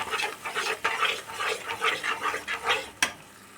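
Spice paste being stir-fried with salt and fried potatoes in a pan over low heat, a soft steady scraping and stirring with light clinks, and one sharp knock of the utensil near the end.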